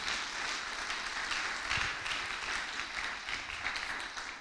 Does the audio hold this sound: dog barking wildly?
no